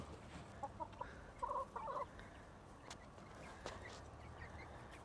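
A small flock of chickens around a chicken tractor, with a mother hen and her chicks making faint, soft clucking and chirping calls in short clusters over a quiet outdoor background.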